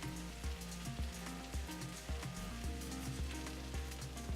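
Rice toasting with tomato paste in a hot pan gives a continuous crackling sizzle, close up, with soft periodic low bumps throughout.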